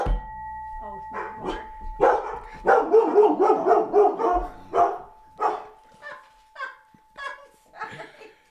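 A dog barking excitedly and repeatedly after a bell is rung, with loud bursts amid laughter and chatter, then a series of spaced, fading barks, over a steady tonal hum.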